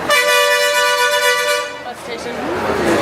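A long, loud car horn blares steadily at a bus station, then cuts off into busy ambient street noise and distant traffic, with people talking.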